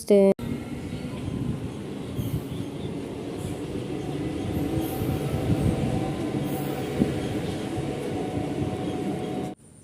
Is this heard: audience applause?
no